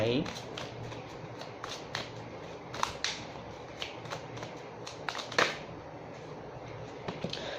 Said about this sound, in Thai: ไพ่กระเด็นแรงมากเห็นปะ สับสดก็อย่างเงี้ย